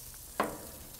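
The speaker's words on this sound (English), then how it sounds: "Listen to that sizzle." A sudden sharp hiss of sizzling bursts out as bacon-wrapped jalapeño poppers hit a hot grill, then fades quickly into a soft background crackle.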